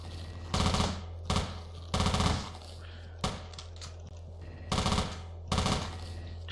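Bursts of gunfire from a gun in the top-down shooter Teleglitch, six short rapid-fire volleys separated by brief pauses over a steady low hum, loud and close with no talking.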